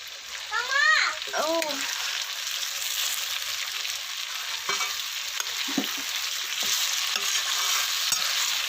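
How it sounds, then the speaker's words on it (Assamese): Duck meat simmers in a pot, giving a steady, close bubbling hiss throughout, with a brief voice near the start and a few soft knocks and clinks later. "হাঁহ মাংস সিজিবলৈ অকণমান টাইম লাগে, তো সিজাই আছোঁ।"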